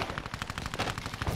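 Rapid automatic gunfire from the video game Call of Duty: Modern Warfare II, dense loud bursts of shots firing continuously with no pauses and no speech.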